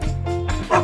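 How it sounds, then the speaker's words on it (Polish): A cartoon dog in a children's toy story gives two quick, yappy bow-wow barks, close and clear with no talking. "To jest pies i robi... Hau, hau."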